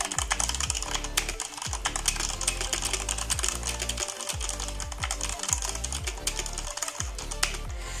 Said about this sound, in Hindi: तो ब्राउन स्विच की जो की साउंड है वो इस टाइप की है